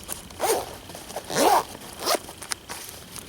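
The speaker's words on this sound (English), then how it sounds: "You can also access the whole zipper section here." Zipper on a belly bag being opened in a few quick, rasping pulls, close and clear with short pauses between them and no talk.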